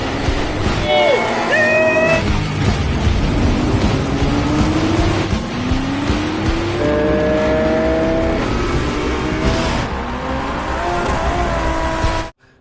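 Several engines roar and rev continuously at close range, pitches climbing and shifting as cars accelerate past one another.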